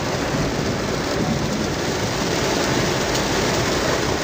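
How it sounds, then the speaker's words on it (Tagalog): Heavy first rain of the season as a storm arrives over city streets and traffic, a loud, continuous wash of rain hitting surfaces nearby with no pauses. "Dumating na ang bagyo."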